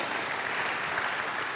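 A church congregation applauds together, a dense, even wash of clapping from many hands that holds steady and fills the room.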